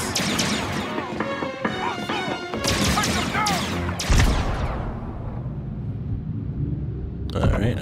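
Heavy bursts of blaster-style gunfire and crashing impacts in the Star Wars Outlaws video game, loud and continuous with rumbling booms, while a player talks over the action.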